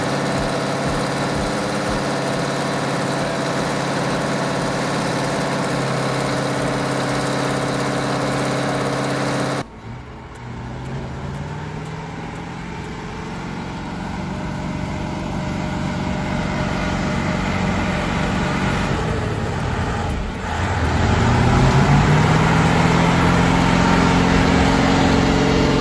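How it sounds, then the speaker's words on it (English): Big Bud 747 tractor with a massive 16-cylinder engine idles while warming up, a steady deep rumble that shifts in tone partway through and later rises slightly, continuous with no talk. "even this beast's massive 16-cylinder engine takes its sweet time to warm up. Still, that deep rumble, it's worth the wait"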